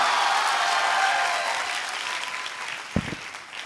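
A crowd claps loudly and steadily, the applause slowly fading toward the end with a brief thump near the close.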